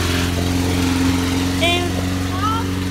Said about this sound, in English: Today, Owen's mowing the lawn.